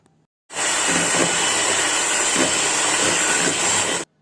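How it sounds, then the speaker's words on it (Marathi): A hand beater whips cream at medium speed, giving a steady loud whirring hiss that starts abruptly, holds evenly for about three and a half seconds, then stops. "ही व्हीप क्रीम मी हँड बीटरच्या साह्याने सुरुवातीला दोन ते तीन मिनटं मीडियम स्पीडवर फेटून घेणार आहे"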